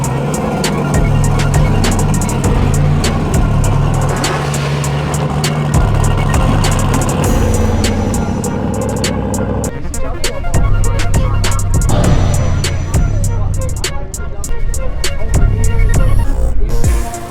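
A turbocharged LS-swapped Foxbody Mustang idles loud and close as it is unloaded at a drag strip, a lumpy rumbling idle that shifts around ten seconds in, with clicks and handling noises over it.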